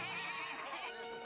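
Cartoon sheep from a Smurfs episode bleat in a loud, wavering chorus of overlapping cries.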